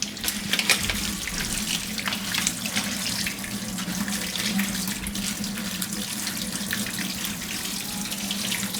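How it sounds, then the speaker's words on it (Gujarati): A kitchen tap runs steadily into a sink while mixed leafy greens such as spinach and radish leaves are rinsed under it, with a continuous splashing flow and occasional louder splashes. "પેલા ધોઈને આ બધી ભાજી પહેલાં આપણે ધોઈ નાખીશું પાણીમાં"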